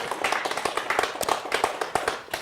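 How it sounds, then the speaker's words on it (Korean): A church congregation at a Thanksgiving service claps in thanks and glory to God, a close, fairly rhythmic run of hand claps with a lively, slightly uneven beat. "우리 감사의 박수를 또 하나님께 영광의 박수 드리기를 원합니다."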